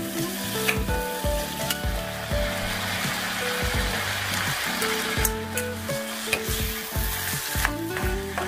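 Diced potato hitting hot oil with chopped onion and chorizo in a pan, a loud continuous sizzle and crackle with repeated stirring scrapes and clatters, close up and without talk.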